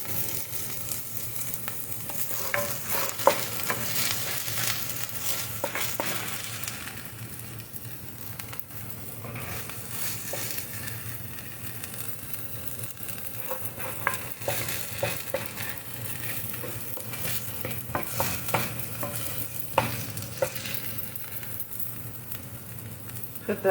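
Onions frying in a pan for a vegan burger, a continuous soft sizzle and crackle with scattered sharper pops and occasional stirring scrapes, fairly close and steady throughout.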